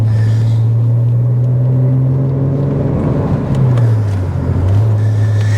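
An MG ZT 190 car engine runs close by with a loud, steady low drone, its pitch holding level before dipping and rising slightly as the revs shift, with no talk over it.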